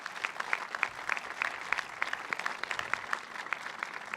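Steady applause from an audience at a Buffalo job training center announcement, dense rapid clapping sustained throughout with no talking over it.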